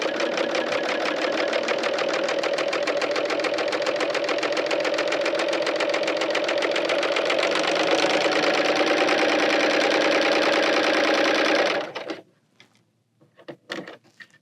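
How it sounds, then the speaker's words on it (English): A Bernina L890 serger overlocks a fabric edge with a loud, steady, rapid mechanical chatter running continuously for about twelve seconds, then stopping abruptly, leaving a few faint handling clicks and taps. "I'm going to go ahead and serge on this edge."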